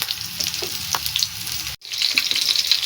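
Seekh kebabs fry on a tawa over a low flame with a steady close sizzle and crackle, scattered pops throughout, and a brief break partway before the frying resumes.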